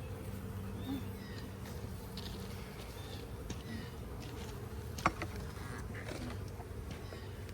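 A steady, droning hum of many honeybees buzzing close by during a hive split, continuous throughout, with one brief sharp knock partway through.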